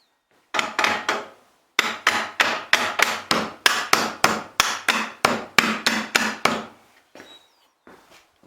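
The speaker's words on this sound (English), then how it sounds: "I actually found it helpful to get out a little hammer and help bang that pin in" A small hammer taps a hinge pin into place on the bagger of an MTD RZT zero-turn mower deck, giving a quick run of sharp metallic knocks, loud and close, with a brief pause before two fainter final taps.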